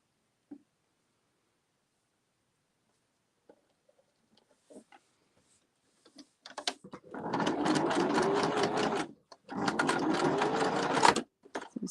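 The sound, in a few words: sewing machine stitching a cross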